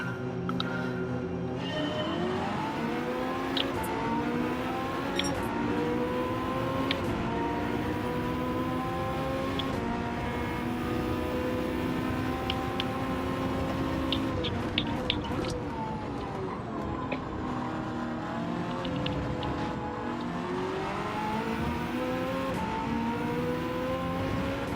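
Ferrari race car engine at Le Mans in Gran Turismo 7 howls through rising and falling gear changes, revving hard out of corners in a steady, loud drone with brief clicks, no voices.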